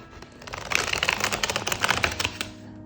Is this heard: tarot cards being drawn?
yes